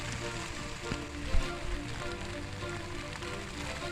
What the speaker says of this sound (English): And now it's really raining here.